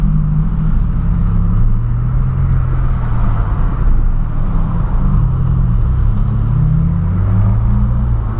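A car on a highway at high speed, heard as a continuous loud engine and road rumble throughout, with a gentle swell as traffic passes close by.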